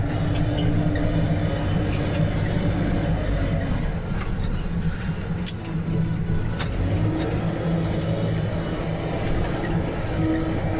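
A JCB 3CX backhoe loader drives along with a steady, loud diesel engine drone and rumble throughout, with rattles and clanks over the constant low engine note, no talking.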